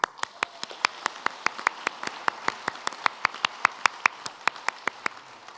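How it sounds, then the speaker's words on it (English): Clapping at an honorary fellowship conferment ceremony, heard as a single pair of hands striking in a crisp, evenly spaced rhythm of about four claps per second, close and alone without talk. "Let's applaud them."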